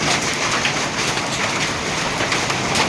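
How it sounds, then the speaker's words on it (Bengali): Hailstones, a mix of large and small, clatter down in a dense, continuous patter, with sharper individual ticks of larger stones standing out against the steady roar. "আর এ বছরে প্রথম শিল পড়লো। হ্যাঁ, কিছু কিছু বড় বড় পড়ছে, কিছু কিছু ছোট ছোট পড়ছে।"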